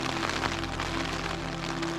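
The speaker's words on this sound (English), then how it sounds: "Well, I guess I'll listen to the rain." Rain falling during a thunderstorm at a camp by Nemeiben Lake, a steady, even wash of noise with a faint low hum underneath and no voices.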